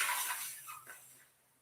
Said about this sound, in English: curl out the edges, almost making a little straw so that you can slurp the air in through your tongue